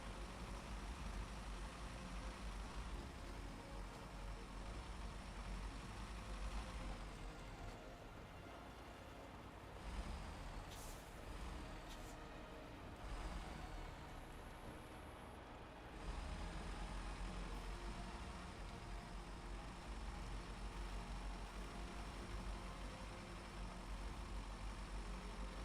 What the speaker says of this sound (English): Honestly, I'm just kind of enjoying the sounds of the engines.